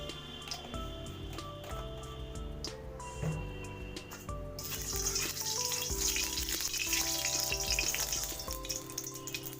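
Rohu fish pieces frying in hot oil, a continuous crackling sizzle that grows busier and louder partway through, with background music playing.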